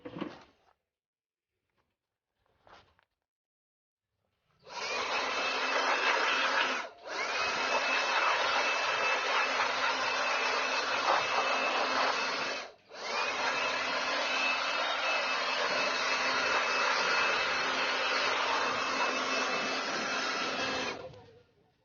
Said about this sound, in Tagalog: blow the engine with the blower